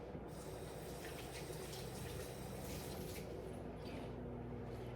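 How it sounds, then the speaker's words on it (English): Hands are washed under a running kitchen tap, a soft, steady gush of water splashing into a sink, fairly quiet with faint background hum and no speech. "Wash my hands again."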